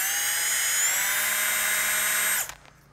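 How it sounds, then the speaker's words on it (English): A power drill drives a screw into a Zenith Super Duty aircraft instrument panel, a close, high whine held for over two seconds before cutting off abruptly. "I need to screw this in."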